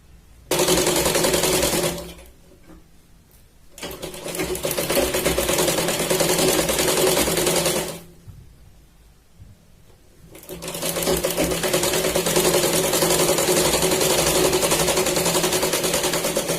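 A sewing machine runs stitch bursts along the edge of a katori blouse, a fast loud mechanical whir in three long runs separated by short pauses, close and alone.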